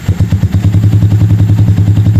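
Up close, a Sniper 150 fuel-injected motorcycle engine idles loud and steady during fuel-injection cleaning, with a fast, even thumping pulse and a mechanical clatter running throughout.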